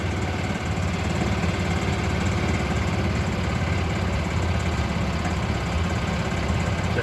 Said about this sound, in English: Going for the old golf cart ride here.